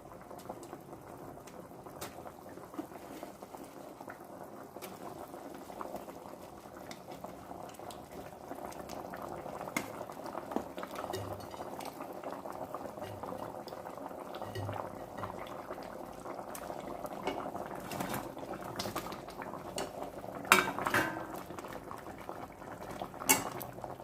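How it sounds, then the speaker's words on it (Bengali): Curry liquid for dhokar dalna bubbling in a pot, a steady close simmer of popping bubbles with occasional louder clinks and splashes, no talking. "খুব সুন্দর ফুটে উঠেছে।"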